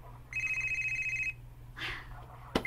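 A cellphone rings with a bright electronic tone lasting about a second over a low steady hum, then a shuffle and a sharp click follow.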